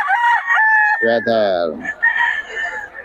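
A rooster crows loudly and close by at a Bocaue market, one drawn-out cock-a-doodle-doo with some clucking and brief voices around it.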